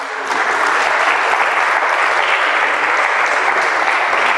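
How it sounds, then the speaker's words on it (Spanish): A church congregation breaks into loud, dense applause, a steady wash of many hands clapping close by for a few seconds. "dele un aplauso al Señor"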